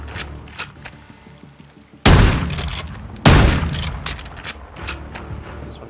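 Gunfire in Call of Duty Modern Warfare 2, two loud, close bursts of shots with echoing tails over a busy battlefield backdrop, with fainter distant shots scattered before and after.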